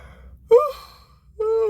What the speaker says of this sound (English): forgive me for the yawning